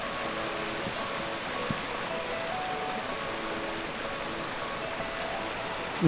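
Steady rushing water roars continuously, a dense broadband wash with no pauses, like falling water heard up close.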